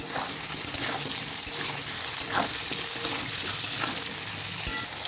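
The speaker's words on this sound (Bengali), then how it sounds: "দেখুন এবার নেড়ে নিচ্ছি।" A soybean curry is stirred in a hot pan: continuous frying sizzle with intermittent scraping and clinking from the spoon, close and fairly loud.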